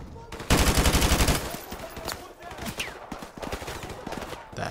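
AK-47 gunfire in the video game Call of Duty: Modern Warfare Remastered: a loud, rapid automatic burst, followed by scattered quieter shots and distant battle noise, with brief voice sounds.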